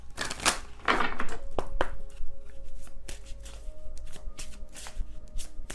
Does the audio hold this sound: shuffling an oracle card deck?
yes